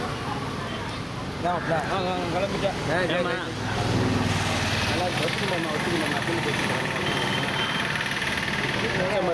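A vehicle engine idling as it arrives, a low steady rumble under loud overlapping talk from people nearby, with the engine sound rising slightly from about the midpoint.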